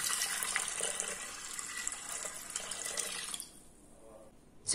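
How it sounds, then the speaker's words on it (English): Water runs into a stainless steel Instant Pot inner pot for about three and a half seconds, a close, steady pouring stream that stops abruptly, followed by near silence and a short knock at the very end. "pour in 800 milliliters of water"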